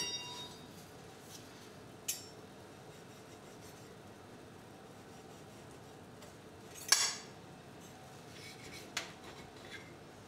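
A baked meatball is cut in two on a metal plate, giving a few faint, brief metallic scrapes and clinks, with one louder scrape partway through, over quiet kitchen background.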